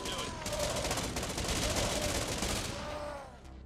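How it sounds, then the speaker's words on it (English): Sniper rifle fire in the game Infection Free Zone crackles as a dense burst of rapid shots, steady for about two seconds and then fading away. "Snipers are working."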